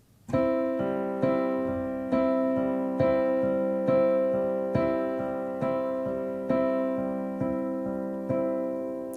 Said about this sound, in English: you're going to play alternating notes within the chord